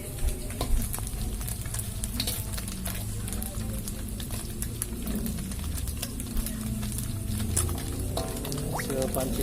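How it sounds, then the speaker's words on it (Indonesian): Betok fish fry in a pan with a loud, dense sizzle and constant crackling spatter. There are occasional clinks of stirring, and no words can be heard. "Hasil pancingan Pak El digoreng."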